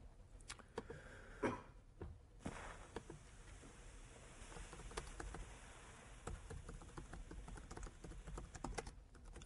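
Keystrokes on a computer keyboard tapping in irregular bursts through the whole stretch, quiet and close, with short pauses between runs of typing.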